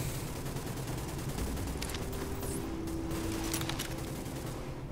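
Steady rapid gunfire from a video game firefight, a continuous crackling volley with scattered sharper shots, moderately loud and unbroken across the whole stretch, without talking.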